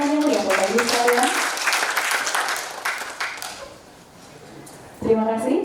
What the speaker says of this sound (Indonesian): Boleh kita berikan tepuk tangan yang meriah Bapak Ibu sekalian?